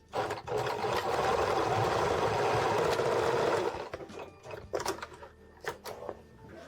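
A sewing machine stitching a jacket lining to its outer shell whirs steadily and close for about three and a half seconds, then stops, followed by soft fabric handling and light clicks.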